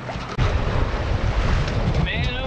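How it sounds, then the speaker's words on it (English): Strong, gusty wind buffets a sailboat out on the water during a regatta in 14-knot winds, giving a loud, continuous roaring rush against the microphone after a brief dip at the start, with waves sloshing faintly underneath. "Man, oh man, it is windy out here."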